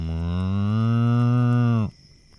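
A person's voice imitates a cow, giving one long, loud, sustained moo for almost two seconds before cutting off abruptly into quiet.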